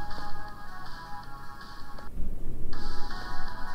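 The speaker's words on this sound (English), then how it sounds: "Oh, it's a phone. Someone's phone." A phone ringtone sounds in the horror video game The Closing Shift, set in a late-night coffee shop, playing a loud, steady electronic melody that cuts out briefly and then resumes over a low background rumble, with no talking.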